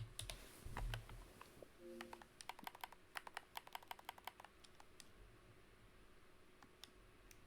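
Typing on a computer keyboard during a Neverwinter game stream, a quick run of crisp, close key clicks in an uneven rhythm that thins out toward the end.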